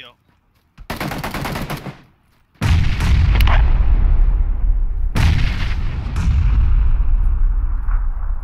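Grenade blast followed by heavy gunfire in PUBG, a loud sudden boom with sustained rapid shots and crackling bursts, close and dense, with faint voices underneath.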